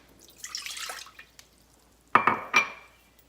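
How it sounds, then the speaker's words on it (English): Water poured into the inner pot of an Instant Pot pressure cooker: a soft splashing pour is followed by a few sharper, bright clinks and drips from the pot. The sounds are close and there is no talking. "Always be sure you add 1 cup of water."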